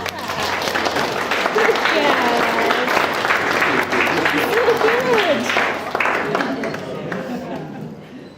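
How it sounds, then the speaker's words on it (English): Wedding guests applaud during a best man's speech, with steady clapping from a crowd over several seconds and voices and cheers mixed in, tapering off at the end. "Shall we give them an applause?"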